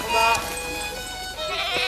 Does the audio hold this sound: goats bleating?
yes